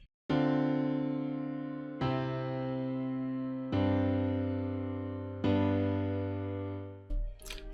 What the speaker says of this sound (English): I started the process with some chords and they sound like this.